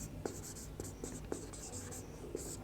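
A pen moves across paper while writing out a maths problem, producing close, soft scratching strokes punctuated by small taps as each figure is set down.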